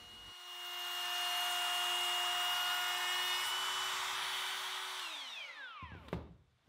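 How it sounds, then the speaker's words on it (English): A wood router with a chamfer bit spins up and runs steadily at a high whine while cutting a profile into baseboard-style wood molding, then winds down, ending with a brief clunk. "I'm still using the chamfer bit set at the same depth as when I cut the profile into the baseboard molding."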